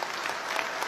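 Crowd applauding at a rally of ST bus workers, a dense, even wash of clapping from many hands filling the whole second without a break.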